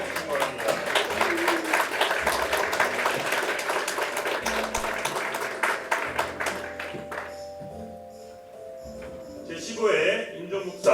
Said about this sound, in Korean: 여러분들 힘찬 박수로 축하해 주시기 바랍니다.